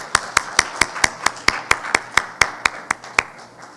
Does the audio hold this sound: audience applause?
yes